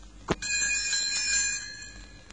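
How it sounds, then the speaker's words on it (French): A bright chime of small bells rings once after a short knock as a page-turn cue in a Winnie the Pooh audiobook, its tinkling tones shimmering and fading over about two seconds. "Elle fera tinter ses petites cloches."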